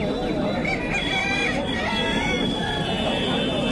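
Turkeys and other fowl at a busy hill market gobble and cluck loudly and continuously, close by, mixed with crowd chatter and voices.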